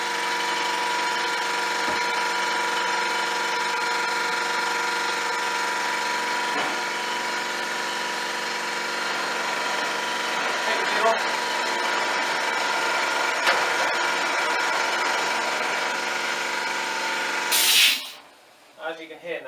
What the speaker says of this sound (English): the air compressor has reached its pressure.